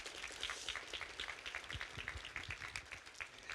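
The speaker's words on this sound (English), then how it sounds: "A nice round of applause," Faint, distant applause from a community forum audience, light and steady clapping that stays well in the background.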